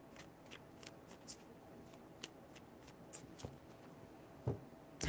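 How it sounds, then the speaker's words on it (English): Tarot cards are shuffled by hand in quiet, close bursts of riffling and soft slaps, several short flurries spaced unevenly against a faint background. "3 shuffles for the Aries."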